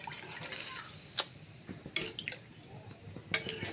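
Water being poured into a pot for a mirga fish gravy, with soft splashing and a few sharp clinks of utensils against cookware at close range, otherwise fairly quiet.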